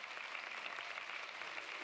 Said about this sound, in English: Please come on to the table, and applause for all them.